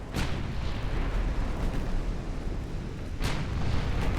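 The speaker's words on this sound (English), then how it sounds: "we're going to fire into that battleship while we're trying to organize our ships" Naval gunfire and explosions from battleships in the video game Ultimate Admiral Dreadnoughts, a continuous loud rumbling barrage with two sharper booming blasts near the start and again near the end, no voices.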